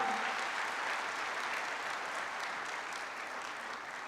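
An audience at a conference claps for a poet after his recitation, a steady, full round of applause that holds evenly and only slightly softens toward the end.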